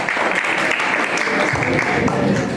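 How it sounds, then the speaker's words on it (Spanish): Guests at a quinceañera break into loud, full applause, a thick continuous wash of clapping from a close crowd that holds steady for a couple of seconds. "Un fuerte aplauso."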